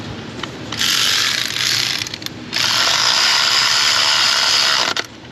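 A ratchet clicks in two long rapid bursts while fasteners are tightened across the top of a 2015 Nissan Pathfinder, loud and close, with a short pause between runs and no talking.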